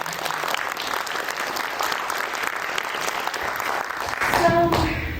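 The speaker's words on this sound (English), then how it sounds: "Let's give Boots a great applause." An audience at a museum evening event applauds a guest named Boots Kennedy with steady, moderately loud clapping, and a brief voice or tone rises near the end.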